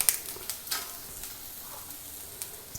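Grated coconut, dried red chillies, cloves, cinnamon, fennel and pepper roasting in a pan for chicken curry, a soft steady sizzle with occasional light scraping stirs, quiet and close.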